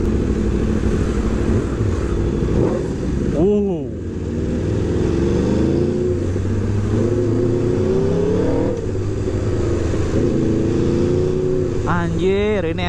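Aprilia RSV4 RR sport motorcycle engine revving loudly and steadily, with rising and falling pitch sweeps and sharp blips near the middle and end, someone talking over it throughout.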